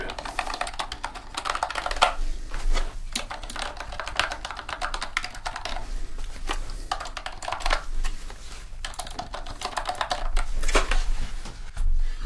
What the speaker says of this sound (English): I'm able to update everything on this keyboard here